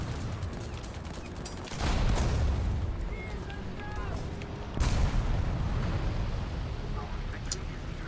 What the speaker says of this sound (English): So yeah, exploding even a small caliber high explosive like this one.